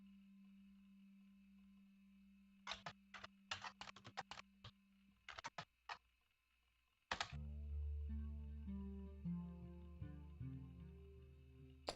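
Keys on a computer keyboard clatter in quick bursts of typing, close and crisp over a low electronic tone, and game music swells in afterward.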